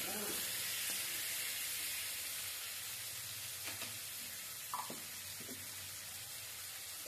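Pointed gourd (potol) browning in a pan crackles with a soft, continuous sizzle and hiss, broken by a few light scrapes of stirring.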